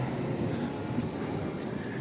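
Continuous low rumble of a new Swiss-built tram in motion in Lviv, a steady rolling drone with faint rattling on top and no talking.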